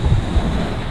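Stormy sea at Paldiski, waves crashing with heavy wind buffeting the microphone, a loud continuous roar for about a second with no voices.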